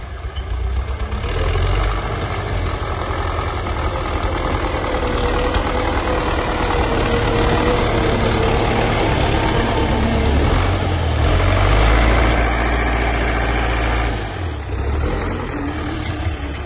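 An MTZ-80 tractor engine idles at a farm while being readied for sowing with a seeder, a loud, steady low diesel rumble with a rough knocking throb that swells slightly near the end, with no talking.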